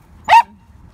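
A dog in Ilsan Lake Park gives a single short, sharp bark, close and loud against quiet background.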